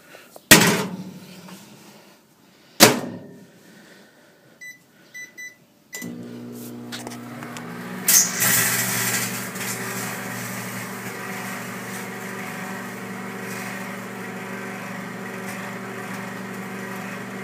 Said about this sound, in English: this is a lithium ion battery pack that's dead and I'm putting it in a microwave